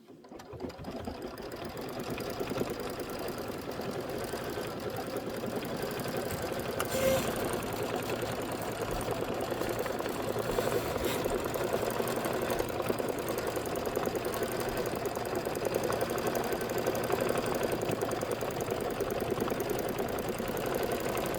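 A sewing machine stitches down fabric for a quilted pumpkin pie project, running in a steady, close mechanical whir with rapid needle clatter that holds nearly unbroken for about twenty seconds.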